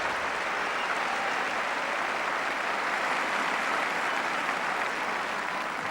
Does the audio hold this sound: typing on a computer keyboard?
no